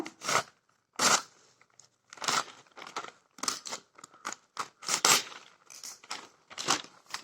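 Scissors cutting through a thin polythene carry bag, giving a series of short crinkly snips and rustles in irregular bursts, close and fairly quiet with no talking.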